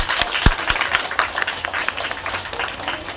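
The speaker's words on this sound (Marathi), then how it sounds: "वेदासाठी सर्वांनी जोरात टाळ्या वाजवाव्यात" An audience at a school Dahi Handi event breaks into brief, dense applause, a crowd of hands clapping close and fairly loud over a short stretch.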